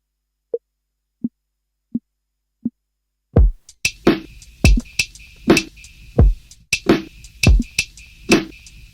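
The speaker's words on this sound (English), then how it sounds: "There's a nice wood block sample here." Four evenly spaced hollow wooden knocks, then a faster sampled drum pattern of woody hits and thumps repeating in a steady rhythm.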